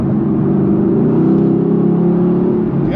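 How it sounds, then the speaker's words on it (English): A Mercedes-Benz GT in Sport Plus mode, its engine holding a loud, steady drone under acceleration from inside the car, with no talking. "listen to the sound of the engine"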